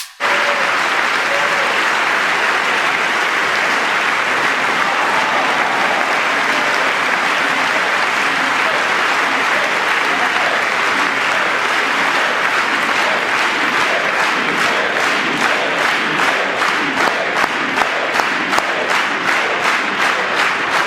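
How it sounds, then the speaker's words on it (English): Applause for a boy with brain cancer during a Trump speech, sustained loud clapping from a large crowd that swells and grows more rhythmic toward the end, with scattered cheers mixed in. "Republicans stood and applauded"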